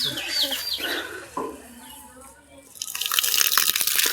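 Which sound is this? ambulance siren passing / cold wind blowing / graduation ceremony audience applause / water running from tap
water running from tap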